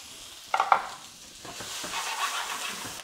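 Onions and garlic hit a very hot pan with a few clatters of utensils, then a steady sizzle of frying builds and continues, close by with no speech.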